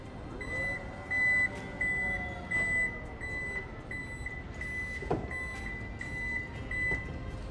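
Power tailgate on a Toyota Land Cruiser 300 closing, a regular series of high warning beeps repeating about every half second over a low motor hum, with a soft thud near the end.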